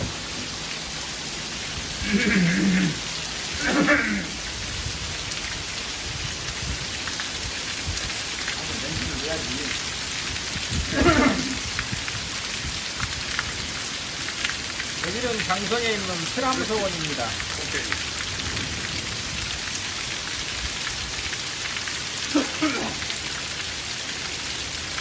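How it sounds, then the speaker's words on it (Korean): A heavy rainstorm pours down with strong wind at Pilam Seowon, a Confucian academy in Jangseong, Korea, a loud, constant hiss of rain throughout while someone speaks and others talk intermittently over it. "지금 완전히 폭풍우가 쏟가지고 강풍이 몰아치고 있습니다"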